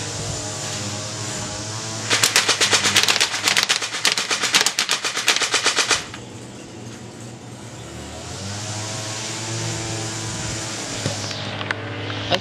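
A Crosman Pulse R71 airsoft rifle fires a rapid automatic burst of sharp cracks for about four seconds, then stops, leaving a steady background hum.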